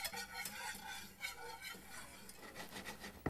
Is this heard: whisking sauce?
yes